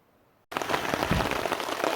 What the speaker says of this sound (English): as you can probably hear, it's raining pretty good